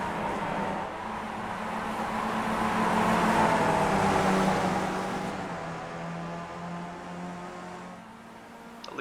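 Race cars at Watkins Glen in an iRacing sim replay drone past as a pack, engine tones swelling to a peak midway and then fading, with no talk over them.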